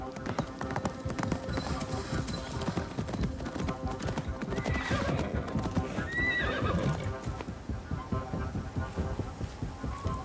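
Horse hooves clip-clop steadily in Assassin's Creed Mirage, with repeated neighs and whinnies in the middle, set against low background hum and game sound.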